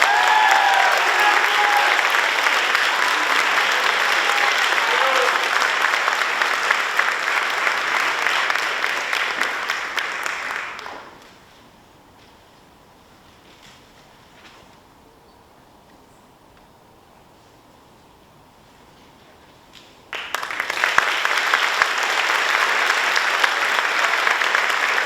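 Sustained applause from a school awards night audience fills the hall for about ten seconds, fades to near quiet, then a second loud burst of clapping starts up again.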